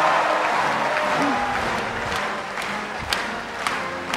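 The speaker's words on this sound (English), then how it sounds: "There's a lot of cheering going on in the background" Crowd noise fills a Philippine Congress joint session for the 2005 State of the Nation Address, with steady cheering and murmur, a few sharper claps and shouts rising near the end.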